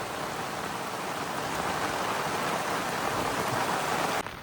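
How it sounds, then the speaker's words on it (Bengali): Steady rain pours down on a river in the Sundarbans, a dense continuous hiss of drops on water and surfaces, loud and close throughout with no voices. "বৃষ্টি হচ্ছে"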